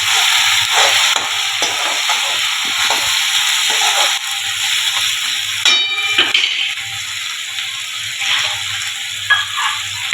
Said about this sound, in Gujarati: હવે ડુંગળી મરચાંની પેસ્ટ બરાબર શેકાવા દઈશું